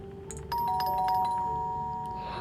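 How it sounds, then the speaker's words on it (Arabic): A doorbell rings in a horror video game, a clear electronic ding-dong chime with sustained bright tones that ring out and fade slowly over a low ambient hum, with no talking. "ده مين بيرن ده؟ كان من على الجرس في الوقت ده."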